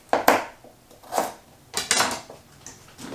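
A knife chopping air fried beef kielbasa into bite-sized pieces on a board, a few distinct sharp cuts spaced irregularly, close and clear with no talking.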